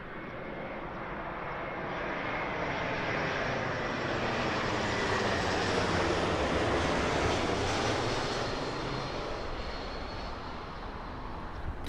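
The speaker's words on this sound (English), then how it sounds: "Oh, the British Airways 380 from San Francisco." A British Airways Airbus A380, eleven years old and arriving from San Francisco, thunders past at London Heathrow, a loud, steady broadband jet roar that swells slightly in the middle and holds throughout without voices.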